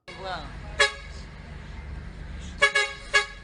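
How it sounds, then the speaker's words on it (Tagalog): A bus horn honks in short blasts on a busway, one early and then two quick ones near the end, over steady traffic rumble and a voice. "Ilang beses nang bumusina ang bus."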